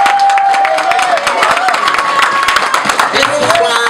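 An audience claps and cheers for David Weaver, a dense wash of applause running throughout under a voice speaking over it.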